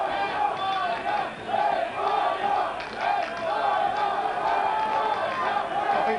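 A rugby union crowd at Galashiels during Uruguay versus Spain in 1999 roars and chants, a loud, surging mass of voices that rises and dips in waves across the whole stretch.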